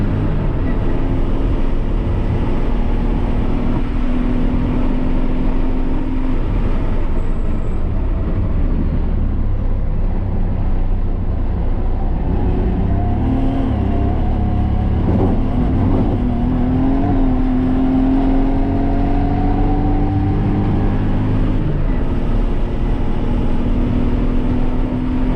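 A BMW 323i with 160hp driven flat out around the 3-mile Thunder Hill circuit: a loud, steady engine drone heard from inside the car, its pitch climbing and dropping through shifts and corners, with no talking.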